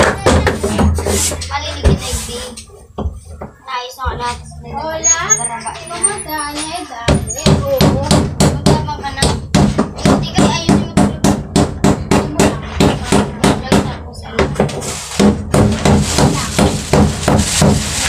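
Repeated sharp hammering strikes of a stone used as a hammer, steady and rhythmic, pounding hard on something close by while voices talk and children chatter in the background.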